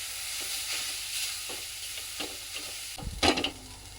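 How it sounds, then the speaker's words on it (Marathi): Grated coconut is roasted in ghee for ukadiche modak, stirred with a spatula, producing a soft low sizzle with faint periodic scrapes, then a short louder burst of scraping and clatter near the end. "खोबरं एक दोन ते तीन मिनटं आपल्याला तुपावरती परतवून घ्यायचं"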